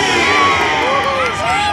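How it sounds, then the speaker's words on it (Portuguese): Spectators at a Honda motorcycle stunt show cheer and shout loudly, a dense crowd roar with children's high voices and whoops rising and falling, close and continuous. "Girando para receber o carinho e os aplausos do público."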